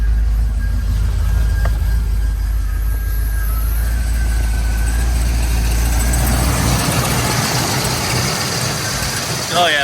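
A 1982 Chevrolet Camaro engine with vacuum leaks idles with a deep, steady rumble up close, then revs up into a rougher, louder roar for the last few seconds.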